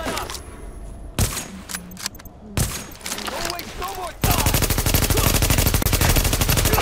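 Automatic weapons fire in the video game The Division. Scattered shots and clicks give way to a sustained loud rapid burst of machine-gun fire, close and dense, with game sounds underneath.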